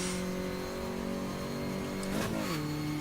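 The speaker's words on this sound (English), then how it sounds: "I'm trying to make the engine sound louder" A loud race car engine in rFactor drones at steady revs, then its pitch dips and shifts as the gear changes, close and continuous with no talking.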